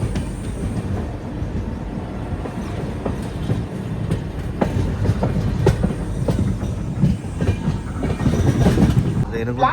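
A train pulls into Renigunta railway station, running about twenty minutes late, with a steady rumble and a loud rolling clatter of wheels over rail joints throughout, rising slightly near the end.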